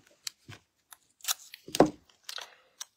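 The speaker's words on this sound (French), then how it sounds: "on met son scotch ici" Masking tape is unrolled and pressed onto a canvas for acrylic painting, heard as a quiet series of short, crisp rips and taps separated by silence.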